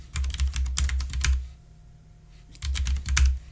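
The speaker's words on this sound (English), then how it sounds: "It's a mechanical keyboard, but it's a soft mechanical keyboard, so it's sort of a hybrid." Typing on a soft mechanical computer keyboard, a hybrid between clicky and quiet switches: two quick bursts of close keystrokes separated by a short pause.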